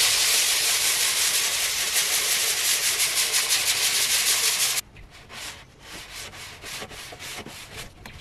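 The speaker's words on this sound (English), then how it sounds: "I have my sanding block. I'm gonna give it a really quick sand" Steady rhythmic rasping of a sanding block rubbed back and forth over wood, loud and close at first, then lighter and quieter strokes.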